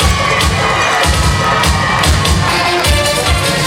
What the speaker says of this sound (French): Plus fort que ça, les applaudissements s'il vous plaît.